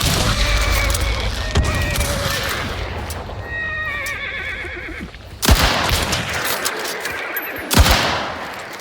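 Gunfire in the Hunt: Showdown video game, with power shot ammunition: two loud, sharp reports several seconds apart, cutting through a continuous bed of horse whinnies and game noise.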